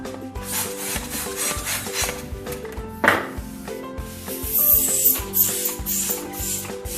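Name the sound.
balloon being inflated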